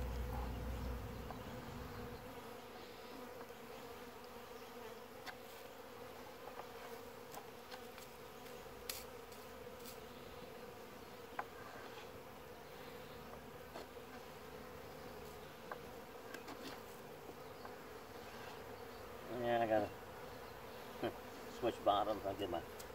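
A steady drone of honeybees buzzing around a hive in a bee yard, continuous and fairly soft, with individual bees flying close past the microphone now and then, with brief faint sounds of handling near the end.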